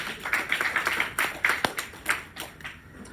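Scattered, uneven hand claps from a small lecture audience, a dozen or so sharp slaps over about three seconds, moderately close and fading toward the end.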